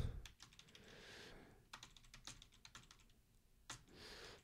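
Quick bursts of typing on a computer keyboard, crisp close key clicks in uneven clusters with short pauses between, alone and without talk.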